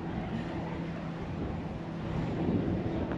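Steady wind rushes across the roof of a converted camper van, a continuous broadband whoosh with slight gusting swells and no talk.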